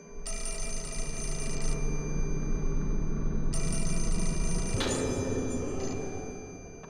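An old telephone bell rings in the horror video game Fatal Frame: Mask of the Lunar Eclipse, two long bright trills separated by a pause, loud over a low droning ambient background.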